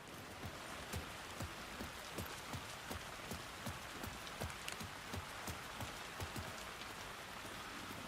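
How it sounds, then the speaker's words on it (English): Steady rain pattering across a dark city in Alan Wake II, a soft constant hiss dotted with distinct drips and drops landing on nearby surfaces, with no voices over it. "After all that noise, it's so quiet here now, even with the rain."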